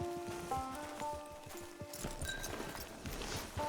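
Horse hooves clip-clop in an uneven walking rhythm in Red Dead Online, fairly close, with soft ambient tones and faint background sounds around them.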